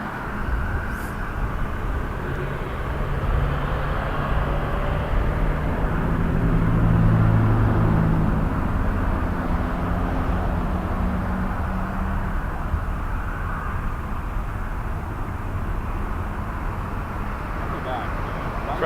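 A Boeing 787 Dreamliner airliner lands at Toronto Pearson airport at night, a broad jet roar swelling to a peak midway and then easing off into steady background rumble.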